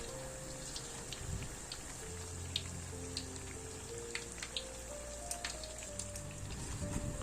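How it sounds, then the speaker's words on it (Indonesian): Tempeh frying in a generous amount of oil, a soft continuous sizzle with scattered small pops and crackles, faint and steady throughout. "minyaknya ya agak banyak ya untuk menggoreng tempe kayak gini supaya dia matang sampai ke dalam"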